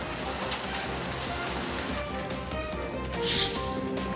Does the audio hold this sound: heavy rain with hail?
yes